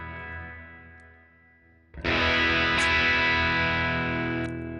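Electric guitar through a JHS Kilt overdrive pedal: a fading chord tail, then a loud, gritty, distorted strummed chord that sustains strongly with crunchy breakup, alone and close.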